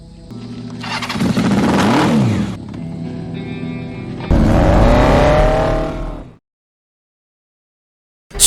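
Daryl's motorcycle from The Walking Dead season 6 episode 6, its engine roaring loud and close in two revving bursts, a strained whine rising in the first, before cutting abruptly to silence.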